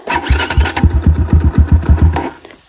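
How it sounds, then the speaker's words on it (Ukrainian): A Rottor Puncher Lite 250 motorcycle engine turns over in a quick run of about a dozen rhythmic chugging pulses, close and fairly loud, then fades out. "Як заводиться?"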